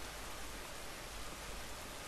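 Rain falling in the video game The Last of Us, a faint, even wash of hiss that stays constant throughout with no voices.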